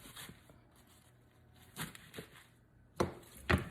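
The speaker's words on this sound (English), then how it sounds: "Trying to cut up some of these larger pieces." A knife chops through mustard greens on a cutting board in a few separate, irregular strikes, close and crisp, with quiet pauses between them.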